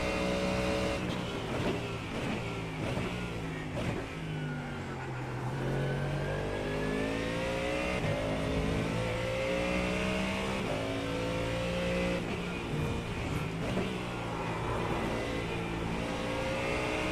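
A Mercedes GT3 race car in the iRacing sim rev continuously as it climbs and drops through the gears, with a loud, steady engine note and rising and falling pitch that runs uninterrupted for the whole lap segment.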